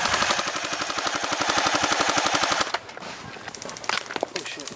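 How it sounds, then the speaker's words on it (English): Airsoft guns fire during an outdoor airsoft game, a long rapid automatic burst of close, loud shots for over two seconds, then quieter scattered single shots and short volleys trailing off. "someone's shooting over there"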